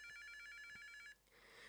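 A Polly Pocket toy phone plays a bright electronic bell ring, a rapid trilling tone that stops abruptly after about a second, followed by faint handling noise; no voices.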